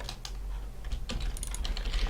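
Rapid typing on a computer keyboard, close and continuous with quick uneven bursts of key presses and no one talking.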